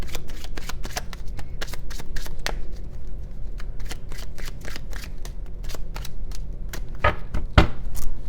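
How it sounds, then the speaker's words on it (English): Tarot cards are handled and shuffled, producing a dense run of crisp card flicks and riffles, close and steady, with a couple of sharper snaps near the end and no talk. "take a couple more cards and then we will clarify that"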